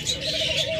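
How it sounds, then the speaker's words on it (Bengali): A domestic-foreign cross hunting dove gives a soft, steady cooing call, close and continuous through the short moment with faint background hiss and no talk. "খুব ভালো দেশি ঘুঘুর মতো ডাকে"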